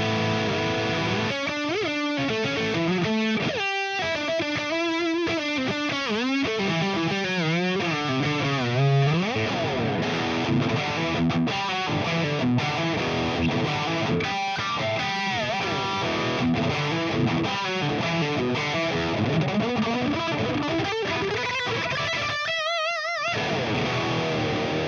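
A distorted electric guitar, a Kramer Pacer Classic on its neck pickup, plays fast, shredding lead lines with bends and sustained notes, loud and continuous, with a short pause near the end.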